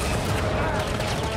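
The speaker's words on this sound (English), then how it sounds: "So that fires the cannons." Cannons fire in the Star Wars Jedi Fallen Order video game, a dense, continuous barrage of loud blasts filling the whole moment without a break.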